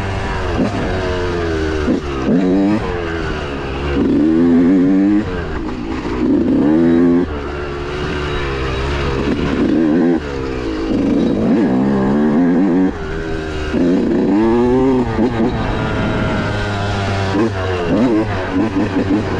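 A Yamaha YZ125 two-stroke dirt bike revs hard on a trail, its loud, close engine rising and falling in repeated sharp, buzzing throttle sweeps that continue throughout without a break.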